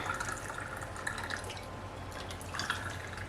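Hot water pouring and splashing while canning jars of kidney beans and bean soup are filled, a steady close liquid stream with spilling drips, no talk.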